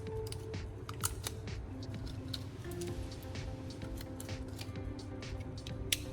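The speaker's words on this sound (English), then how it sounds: "I will use a box cutter to cleanly remove the plastic layer on the battery." A box cutter scrapes and slices the plastic wrap off a battery from an old laptop charger, giving close, quiet clicks and short scratchy cuts in an irregular rhythm over a low background hum.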